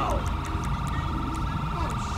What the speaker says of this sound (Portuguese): olha o SAMU chegando